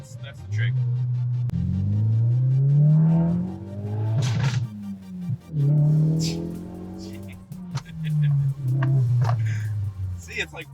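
A Ford Focus RS engine rumbles and revs in repeated rising pulls around 3,000 RPM under boost, with crackling exhaust pops between surges; a voice talks over the loud, close drone.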